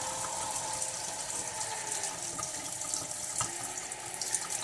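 Water streams steadily from an LED tap with a cascade spout, a constant hiss and splash with no voices and no pauses.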